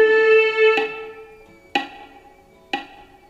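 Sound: quarter note played over four metronome clicks

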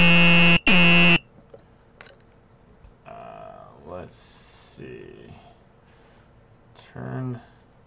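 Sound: buzzer module beeping

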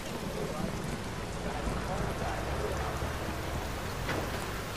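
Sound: rain in the video game Watch Dogs

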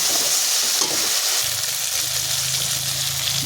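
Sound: chicken added to fried spice paste in pan

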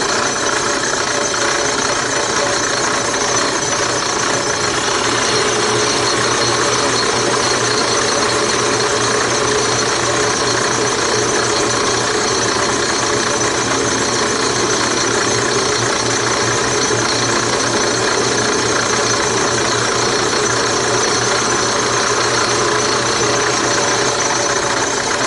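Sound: drilling wood with a 5/8 Forstner drill bit

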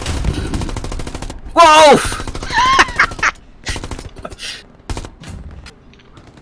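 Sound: gunfire in Hell Let Loose WW2 video game

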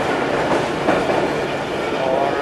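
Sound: passenger train running on tracks

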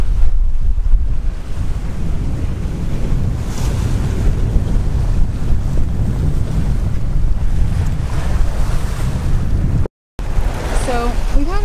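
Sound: sailboat sailing on the ocean, wind and waves

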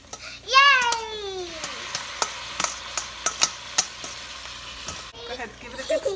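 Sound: broccoli rabe sautéing and being stirred in a pan

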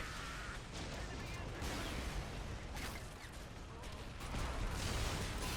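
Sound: artillery cannon volleys in Warhammer 40k video game mod

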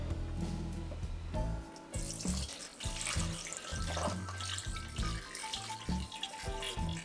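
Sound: brine being poured over meat

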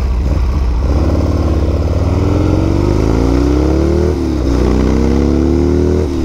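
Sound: modified Harley-Davidson Sportster motorcycle engine running

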